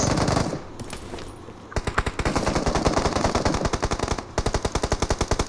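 Rapid automatic gunfire in the battle-royale mobile game BGMI, with long rattling bursts of evenly spaced, loud cracks, a short pause, then another burst.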